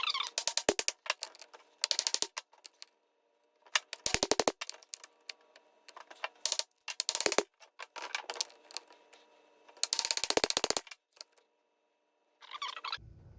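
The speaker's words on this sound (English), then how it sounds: "we're going to tap it from behind with a block of wood. We're going to tap on the output shaft" A block of wood taps against the output shaft of a 4L60E transmission from a 2002 Avalanche. The taps come in several clusters of rapid, sharp knocks, separated by pauses, close and fairly loud, with no talk.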